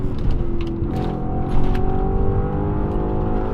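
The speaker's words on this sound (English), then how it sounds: "downshift in a second." An Audi RS4 downshifts while driving, its steady engine drone heard from inside the cabin with a rising rev blip and tone changes partway through, loud and continuous with no talking.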